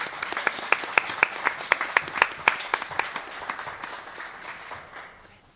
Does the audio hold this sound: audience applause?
yes